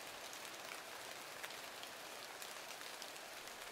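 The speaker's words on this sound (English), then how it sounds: "I wish we had some leaf hats," complained Radio Ron as he wiped the raindrops off his face" Steady rain pours down in a rainforest, a dense even hiss of countless drops falling on leaves and surfaces, soft and unbroken throughout with no voices.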